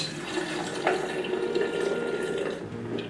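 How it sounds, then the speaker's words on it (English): Warm water from a kettle is poured onto soapnuts in a container, a steady close trickling and splashing stream that runs evenly for a few seconds at moderate volume with no talk. "So I've got some warm water in my kettle, let's add that."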